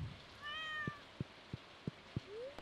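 A cat in the Stardew Valley video game gives one short, soft meow when petted, followed by a steady series of faint rhythmic taps and a small rising chirp at the end.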